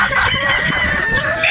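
Gamefowl chickens on a game farm in Batangas, a rooster crowing loudly and close while hens cluck around it, with no talk.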